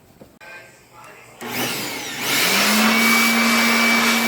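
An electric air blower cleaning DCP server computer parts kicks on after a quiet, clattering start, then builds into a loud, steady whirring roar with a high whine that climbs in pitch.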